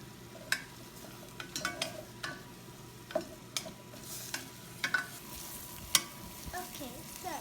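Onions browning slowly in a pan on a home kitchen stove, giving a low steady sizzle broken by occasional sharp clicks and scrapes of stirring, fairly quiet and with no talking.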